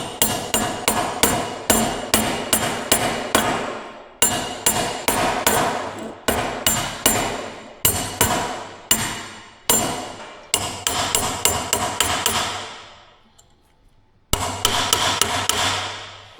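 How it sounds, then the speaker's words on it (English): Repeated hammer taps drive a bearing outer race onto the clutch of an old Caterpillar D4 dozer, coming as sharp metallic strikes in quick bursts of four to six separated by short pauses, loud and close. "Really, I'm just letting the weight of the hammer do all the work."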